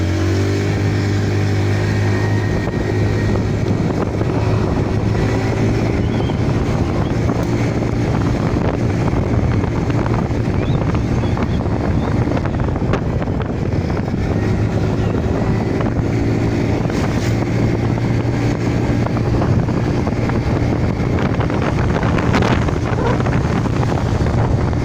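A Honda Beat FI scooter engine pulls steadily up a fairly steep road, its constant droning hum heard from on board, laced with heavy wind rush against the microphone.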